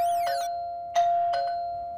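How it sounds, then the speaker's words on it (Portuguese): An electronic doorbell rings with bright chiming tones, struck twice in quick succession after a sustained tone, ringing out clearly and alone. "Tá ouvindo a campainha?"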